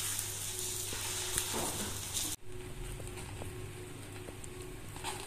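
A radish-stuffed paratha sizzles steadily in hot ghee in a pan, a continuous close frying hiss with a brief break partway through and no talking.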